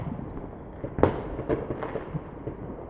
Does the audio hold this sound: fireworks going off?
yes